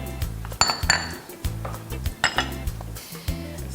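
Pots and utensils clinking and scraping while Nkwobi is dished up in a home kitchen, a steady run of close metallic knocks and clinks with no talking.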